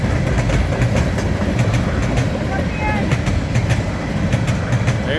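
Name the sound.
Norfolk Southern AC44C6M locomotive train passing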